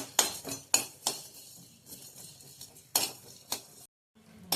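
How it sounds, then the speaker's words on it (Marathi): Coriander, cumin, black pepper and cinnamon are dry-roasted in a pan over low heat, heard as intermittent clinks and scrapes of a utensil stirring, with quiet gaps between and a short silence near the end. "धने, आता जिरे, मिरे, दालचिनी घेतलेली भाजूया"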